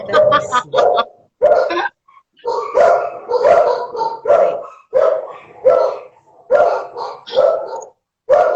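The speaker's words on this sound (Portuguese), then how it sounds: "Minhas cachorrinhas também, de vez em quando, me fazem passar raiva aqui, porque elas latem por tudo" Small pet dogs bark sharply and repeatedly in close, rhythmic bursts, with brief pauses between volleys, loud and near throughout.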